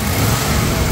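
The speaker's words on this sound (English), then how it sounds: "Rev it up." A 1972 Lincoln Mark IV's 460 engine revving, one loud, close rumbling burst lasting under a second.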